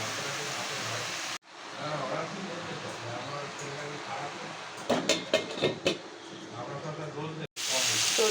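Water lily stems and lentil fritters fry in a wok with a steady broadband sizzle, a few clattering stirs midway, broken by short silent cuts.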